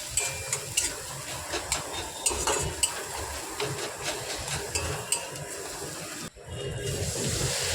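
Fried potatoes and eggs stirred into sizzling masala in a pan, with repeated scraping and clinking of a utensil against metal over a steady close frying hiss that briefly drops out near the end.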